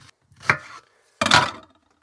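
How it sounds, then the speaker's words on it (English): Onions being chopped roughly with a knife on a board in a boat galley, two separate chunky cuts, each a brief crunching thud, with silence between them and no talking. "So we start by cutting the onions. I'm just chopping these very,"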